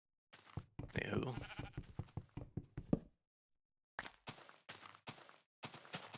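Sheep bleating in a Minecraft-style video game: a string of short wavering bleats and knocking taps, bunched together and then broken by a brief silence, with no talking.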